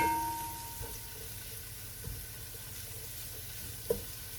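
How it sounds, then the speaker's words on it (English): Onions sautéing in a pan for a cucumber rice soup give a steady, soft sizzle with a few faint clinks of stirring, close by and without talk. "And I like sauteing them with the onion to bring out their aroma and flavor."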